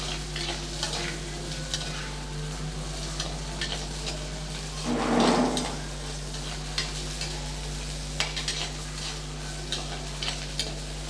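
Turkey berries (sundakkai) sautéed in a pan for thuvaiyal, a steady close sizzle with soft stirring scrapes throughout and a brief louder burst of frying midway, no voices.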